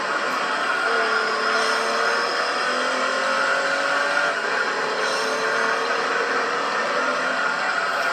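Race car engines roar continuously in Gran Turismo 3, a steady loud drone of several cars with rising and falling engine whines, no talk.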